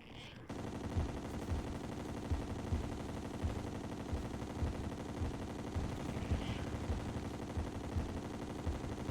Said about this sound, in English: I'm gonna try fighting him with the gun first